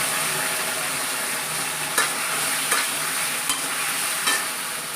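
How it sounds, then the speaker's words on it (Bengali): Boiled, washed taro (guri kochu) frying in hot oil, a steady broadband sizzle with a few brief scraping stirs at regular intervals, close and fairly loud, no voices. "এই দেন সিদ্ধ করে ধুইছি, অনেক এগুলি তেলের মধ্যে ভাজবো"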